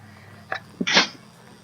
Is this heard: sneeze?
yes